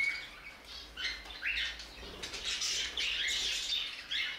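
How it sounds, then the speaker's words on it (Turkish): Budgerigars in an aviary cage, several chasing a hen, give quick high chirps and squawky calls with fluttering wings, fairly close but soft. "Bakın kaç tane kuş peşinden koşturuyor."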